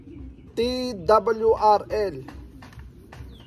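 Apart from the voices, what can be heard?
racing pigeon cooing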